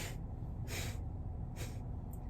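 Three short, breathy bursts of air come from a person doing a slow, paced yoga breathing exercise, heard close and soft against a low steady background hum.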